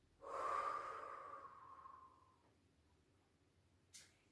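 A long, audible exhale through the nose and mouth during a gentle stretching class, fading out over about two seconds and followed by a short, sharp breath.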